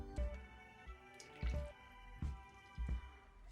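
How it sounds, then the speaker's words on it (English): Cold process soap batter is poured off from a mixing container, making soft, wet plops and squishes. Four or so brief bursts stand out over quiet, faint surroundings. "So I'm going to pour off half of this"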